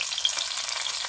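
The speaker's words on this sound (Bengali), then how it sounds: "পটল বেগুন ভাজা হয়ে গেছে" Pointed gourd and eggplant fry in a pan, giving a steady close sizzle and crackle with no voices.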